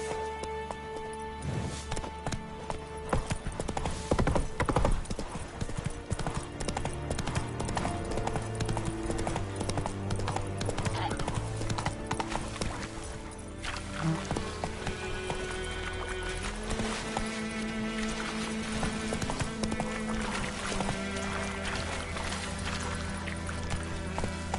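Roach, the horse in The Witcher 3, gallops in steady rhythmic hoofbeats throughout, loud and near under a dense bed of music and game ambience, with an occasional whinny.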